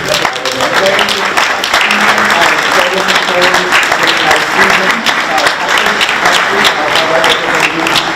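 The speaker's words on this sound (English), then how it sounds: "I'd really like us to give him a big round of applause" Audience applause for an orchestra conductor at an Indian Hill Music concert, a dense, steady wash of many hands clapping that runs at an even loudness throughout, with some voices faintly mixed in.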